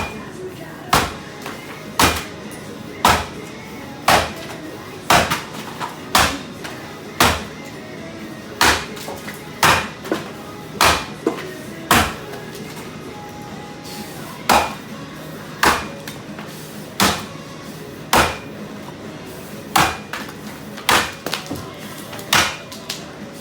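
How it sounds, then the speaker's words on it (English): An old 66 axe with a chisel bit repeatedly strikes wood, about twenty sharp, evenly spaced chops sounding close and loud. "could not get that axe to move at all in the wood"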